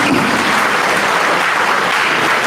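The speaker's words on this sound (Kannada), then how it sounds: "ಈ ಒಟ್ಟಿನಲ್ಲಿ ಒಂದು ಸಲ ಜೋರಾದ ಚಪ್ಪಾಳೆಯನ್ನು ತಟ್ರಿ ನೀವು." Loud, dense audience applause at a devotional gathering, a steady wash of many hands clapping close by throughout with no talk over it.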